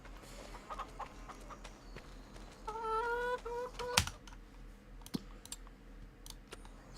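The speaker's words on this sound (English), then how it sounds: "160 chickens" Chickens on a farm in the video game Farming Simulator 25 give a short run of clucks, faint against a quiet background of scattered clicks and taps.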